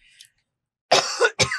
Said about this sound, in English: can you edit this cough out?